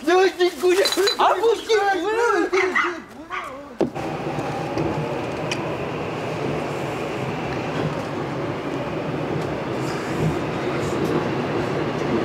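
Steady subway train rumble fills the car once a short stretch of people talking at the start gives way, continuing as a loud, even ride noise to the end.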